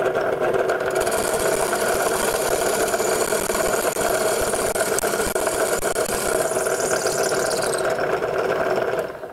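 A Ring Master machine cutting a wooden picture frame gives a loud, continuous whirring drone with rough grinding texture that holds steady for several seconds before easing off at the end.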